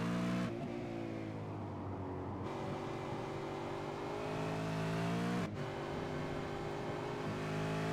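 V8 Supercar race cars at Mid-Ohio in a racing video game, engines droning loud and steady with rising and falling revs, a brief shift dip partway through, no talking.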